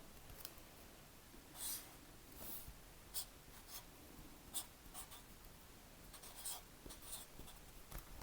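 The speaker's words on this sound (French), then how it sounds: "je peux récupérer et faire une autre ligne parallèle à celle-ci pour marquer mon droit fil. Donc là, je vais marquer en vert." A pen or marker draws a green grain line on a paper skirt pattern, giving soft, close scratchy strokes in short bursts with brief pauses and no talk.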